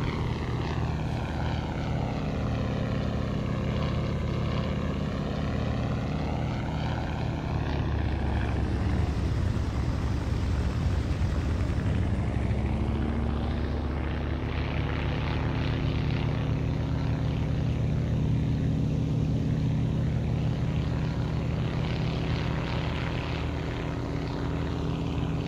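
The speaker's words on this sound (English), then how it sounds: "That was the engine, not me." A PWS-18 propeller airplane in the Prepar3D v4 flight simulator drones steadily and loudly throughout, its engine pitch dipping and swelling midway as power changes.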